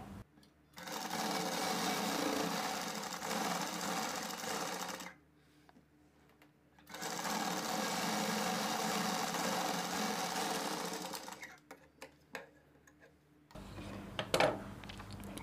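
A sewing machine stitches a blouse front lining in two long, steady runs with a brief pause between them, followed by a few quieter handling clicks and knocks at the end.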